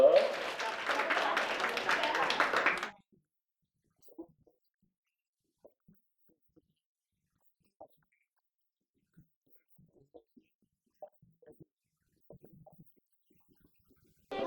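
Students and staff at Bongseo Elementary School burst into a big round of applause to close a school career event, dense clapping lasting about three seconds before cutting off to near silence with a few faint scattered clicks.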